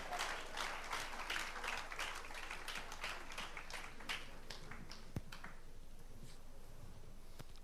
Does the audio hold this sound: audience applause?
yes